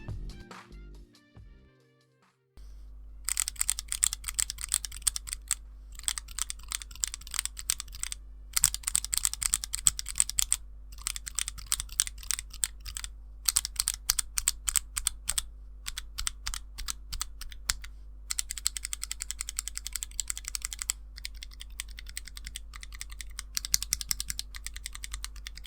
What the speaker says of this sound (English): the lubed switches have a deeper pitch to them and lose a lot of their clackiness